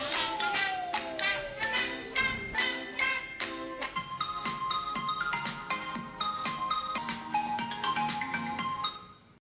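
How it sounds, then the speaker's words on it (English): A melodic ringtone plays on a Samsung S25 Ultra phone, a bright chiming tune of quick repeated notes and shifting pitches lasting several seconds, clear and steady without talking. "Now choose your favorite ringtone."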